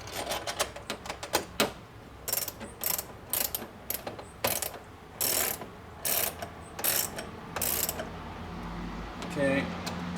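A ratchet on a Subaru Forester clicks through quick bursts of short strokes, pausing between each run as bolts are snugged up, with occasional clatter of parts close by.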